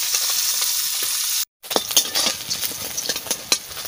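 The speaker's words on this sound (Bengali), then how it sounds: "আমি মাছ ভাজা বসাই দিচ্ছি" Fish frying in hot oil for a fish curry with mango, a steady bright sizzle broken by a brief silent gap, then crackling oil with scattered pops and spatters close by.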